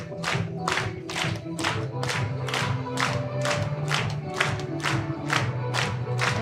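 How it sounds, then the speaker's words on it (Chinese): A church congregation at a Sunday worship service claps in a steady, even rhythm, loud and close. A crowd voice murmurs and hums underneath the clapping. "可以跟旁边的人一起拍手"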